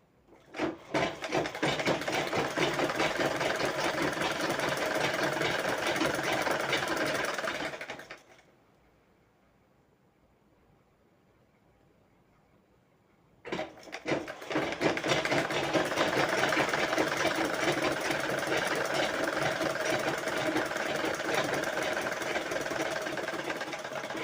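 A sewing machine stitches a blouse lining with a loud, steady, fast mechanical whir, stops for a few seconds of near silence, then resumes running continuously.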